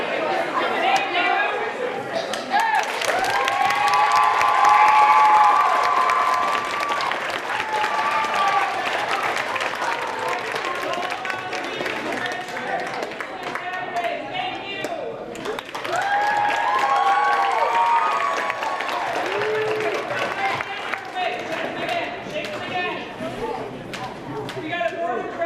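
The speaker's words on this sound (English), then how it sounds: "I want you to get ready to clap hard." A youth conference audience claps hard in a sustained burst of applause, with voices and cheers mixed into the crowd noise and swelling again partway through.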